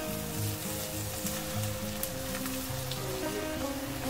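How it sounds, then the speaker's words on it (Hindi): Onions frying in a pan for a fried tikka biryani give a steady, close sizzle with a dense crackle throughout, and a low hum runs underneath. "ये प्याज जो है हमारे फ्राई हो रहे हैं"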